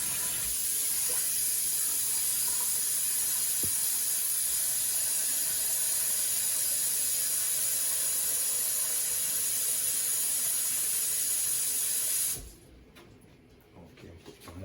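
Tap water runs steadily into a pot for boiling saltfish, a close, even hissing rush that lasts about twelve seconds before cutting off, leaving quiet kitchen room tone.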